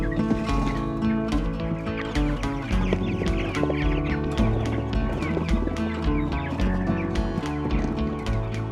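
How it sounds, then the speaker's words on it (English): Fifty Cornish cross broiler chicks out on open pasture, with a steady cluck and cheep of many birds layered over a dense, continuous background that runs the whole time. "Here are 50 chicks out on pasture."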